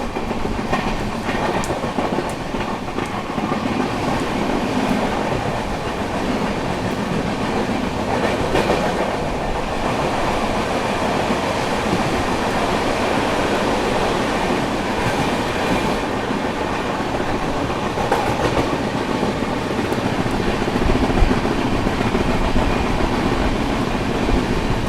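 A passenger train runs on rails on the journey from Bihar to Delhi, with a continuous loud rumble and rhythmic clickety-clack of wheels over joints, sustained without pause.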